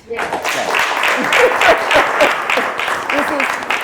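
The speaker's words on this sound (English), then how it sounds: "Clap for that." An audience applauds at a community gathering, a steady burst of clapping lasting several seconds with voices and cheers mixed into it.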